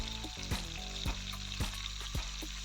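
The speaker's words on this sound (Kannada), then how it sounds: "ಒಂದು 2 ನಿಮಿಷ ಆದಮೇಲೆ ಈ ಥರ ಈರುಳ್ಳಿ ಎಲ್ಲ ಹಾಕೋಬೇಕು" Onions sizzling loudly in hot oil in a pan for mutton biryani, a steady close frying hiss broken by regular scraping stirs about every half second.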